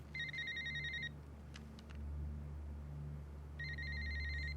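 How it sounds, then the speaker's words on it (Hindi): A telephone bell rings in two separate bursts of bright, repeated trilling, with a quiet gap between them, over a low, steady background hum. "कब से ये फोन बजे जा रहा है,"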